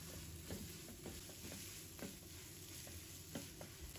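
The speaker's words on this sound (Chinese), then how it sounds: "葱段也加进来，继续开大火快速的翻炒均匀。" Noodles and scallion pieces stir-fried over high heat crackle in a steady close sizzle, broken by periodic scraping tosses of the spatula in the wok.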